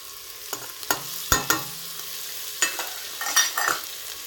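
Garlic stirred into onions frying in a pan, sharp spoon clacks and scrapes against the pan in an uneven rhythm over a quiet low sizzle, close up with no speech.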